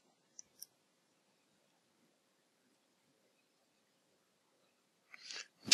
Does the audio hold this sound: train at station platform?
no